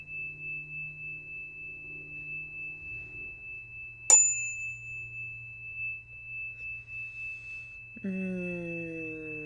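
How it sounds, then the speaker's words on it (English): A single strike of a small handheld bell rings out clearly with a long shimmering decay over a quiet background, followed by a low steady tone near the end. "I have my little bell here."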